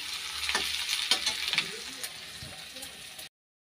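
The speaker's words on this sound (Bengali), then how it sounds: "তারপরে টমেটো কাঁচা লঙ্কা মশলা একসাথে ভেজে" Tomatoes, green chillies and spices fry together in a pan, sizzling loudly up close as they are stirred with a few scraping strokes, then fading before a sudden cutoff.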